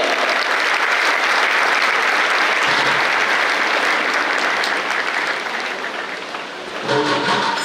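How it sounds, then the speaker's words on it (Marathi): Sustained, loud applause from a large audience of students at an award ceremony honoring successful students at an academy, steady for several seconds and swelling again near the end, with no talk over it. "जोरदार टाळ्यांनी गरुड विद्यार्थी विद्यार्थिनी तुमच्या टाळ्या कशा यायला पाहिजे"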